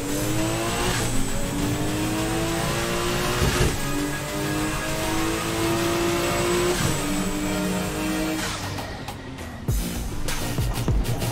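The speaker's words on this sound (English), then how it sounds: "Dennis is taking off with that Honda, man. VTEC power repping." A Honda street car in the Assetto Corsa racing game pulls hard under acceleration, its engine note rising steadily through the revs with VTEC, then shifting before the sound thins out near the end.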